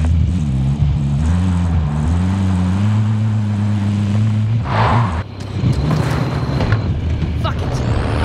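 A vehicle engine in the video game Warzone drones steadily with a rising and falling pitch, loud and close, then cuts out about halfway, followed by scattered clatter and noise, with a voice talking over it at times.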